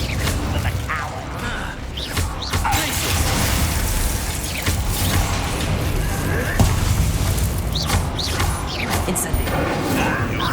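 Confringo blasting curses go off in Hogwarts Legacy, a dense run of booming explosions and crashing impacts layered over battle noise for several seconds, loud and continuous, with some voices mixed in.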